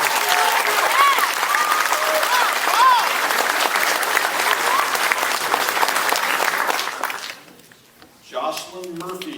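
Applause from an audience at a police academy graduation ceremony, a dense sustained clapping that fills most of the stretch before tapering off, followed by a brief pause and a voice speaking.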